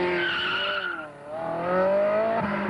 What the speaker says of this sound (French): Et oui, on peut conduire la Modena sur une piste.